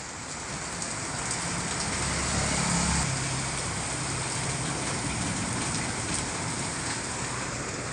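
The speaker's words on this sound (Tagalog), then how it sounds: "Ang lakas ng ulan po" Heavy rain pours steadily in San Fabian at night, a dense unbroken hiss of downpour on surfaces with no voices, holding a constant level throughout.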